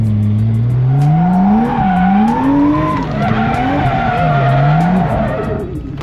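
Tyres squealing and skidding through handbrake slides in a Mazda Ebisu beater car, loud wavering screeches over engine revving, sustained and close.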